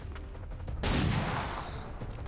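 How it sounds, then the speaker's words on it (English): A single gunshot rings out in a video game, a sharp loud blast followed by a lingering rumbling tail. "Pistol shot it is."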